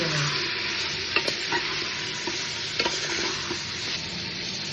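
Mutton sizzling in a cooking pot while being stirred, with a steady fry hiss and several sharp scraping clicks of the spoon against the pot, close and fairly loud.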